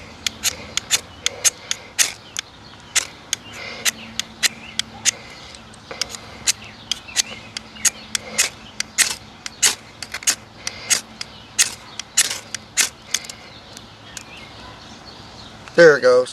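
A knife blade scraped repeatedly along a cheap fire starter striker rod, giving dozens of sharp, close metallic rasps in quick, irregular bursts over a faint outdoor background, with a louder clatter at the end.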